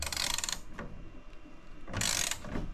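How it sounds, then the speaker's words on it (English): Ratchet wrench fitted with an extension tightening a large DC cable terminal, two quick bursts of close clicking pawl ratcheting separated by a short pause with softer scraping in between. "I really could use a longer section for my wrench here"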